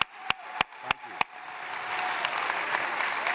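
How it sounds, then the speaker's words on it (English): An audience applauds for Don Peebles at a talk, a few loud separate claps at first swelling into steady, full applause from the crowd. "Everyone, join me in giving a round of applause for Don."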